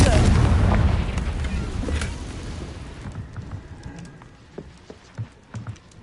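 Confringo fire spell cast in the video game Hogwarts Legacy, a loud blast with rumbling burst at the start that fades into scattered crackles and small impacts, with a voice speaking the incantation.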